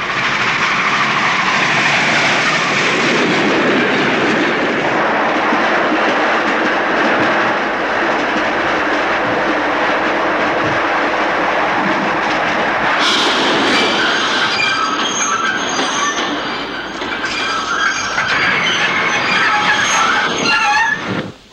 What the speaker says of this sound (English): That's not a train. It's the Diplomat Express. It doesn't stop here anymore.